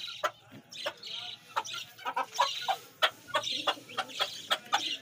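Eight-week-old Aseel chicks cluck and peep repeatedly in short, close calls spread evenly across the clip, with no talk.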